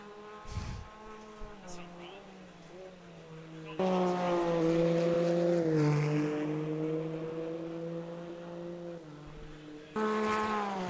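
GT1 race cars in a racing video game lap the historic 1974 Spielberg circuit, their engines droning and shifting pitch with sharp changes partway through. A commentator talks over the engine noise.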